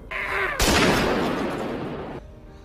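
Gunfire in the film Shield of Straw, a single sharp, loud shot that cuts in abruptly and leaves a broad, decaying roar of echo for over a second.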